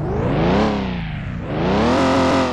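A cargo van engine in Car Mechanic Simulator 2021 revs loudly and steadily, its pitch climbing, dipping briefly, then rising again with strong harmonic tones and no talk over it.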